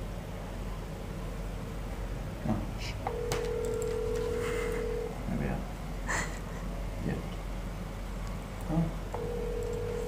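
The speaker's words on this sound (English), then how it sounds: "Press call and then press the speaker button." A phone on speakerphone rings with repeated electronic tones over background noise, and people talk quietly underneath as the call goes through.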